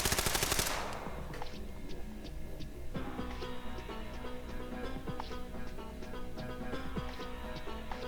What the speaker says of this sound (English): just as submachine gun bullets came flying through the smoke